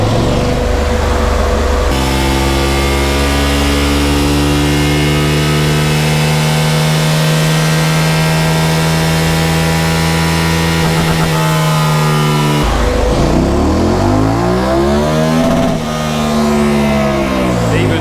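A 2021/22 KTM 1290 Super Adventure S with a remapped ECU runs on a dyno, its engine loud and steadily rising in a long sustained rev before dropping back and revving again.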